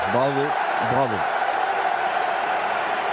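A large stadium crowd at the Stade de France applauds Dimitri Payet as he is substituted during the Euro 2016 France versus Romania match, with a broad, sustained roar of clapping beneath a brief voice at the start.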